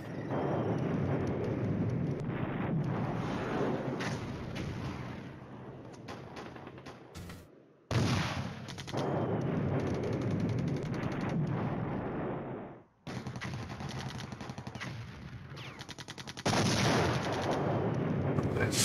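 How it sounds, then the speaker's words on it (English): Artillery bombardment in the war game Flashpoint Campaigns: Red Storm, a dense rolling barrage of booms in long sustained bursts broken by brief gaps, fairly loud and continuous. "Then here comes a bombardment."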